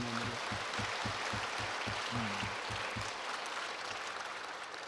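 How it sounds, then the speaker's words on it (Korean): Applause from a Korean Methodist church congregation at a Sunday service forms a steady wash of clapping, with a rhythmic low pulsing of music or organ underneath during the first few seconds. "우리 박수 안 해요"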